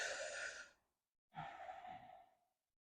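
Two slow, close breaths through the mouth during pranayama breathing practice, each a soft airy rush that swells and fades, separated by a short silence.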